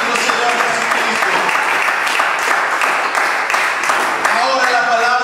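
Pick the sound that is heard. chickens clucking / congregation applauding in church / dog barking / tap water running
congregation applauding in church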